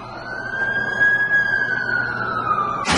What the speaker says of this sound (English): That's the ambulance I called.